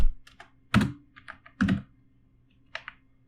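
Computer keyboard keys tapped to type a search into Google, in short bursts of clicks with brief pauses, close and fairly clear with no talking.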